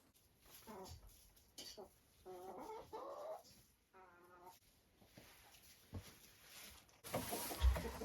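Hens on a poultry farm clucking in short bursts, fairly close, with a louder flurry of fowl calls near the end, heard alongside brief stretches of speech.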